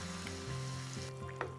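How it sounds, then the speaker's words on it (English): Sauce stirred into a sizzling pan, a quiet, steady frying hiss with a faint scrape near the end and no talk. "All right, so we're gonna stir this up."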